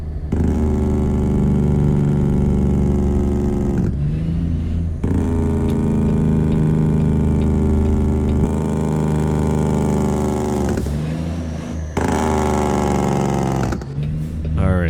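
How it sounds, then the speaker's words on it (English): A Kenworth W900 flat top truck in American Truck Simulator, its engine braking with a loud, steady low growl that runs continuously and briefly dips in a few places. "let's use some engine braking right here"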